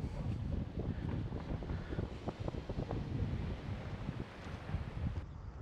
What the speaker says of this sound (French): Comme dit, il y a du vent.